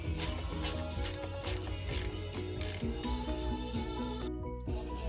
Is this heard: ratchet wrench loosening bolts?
yes